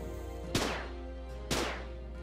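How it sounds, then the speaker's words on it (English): Two sharp gunshots ring out about a second apart in the fantasy role-playing video game Fantasy Forever, each a loud crack with a short ringing decay over a low steady game hum. "Do you guys hear gunshots?"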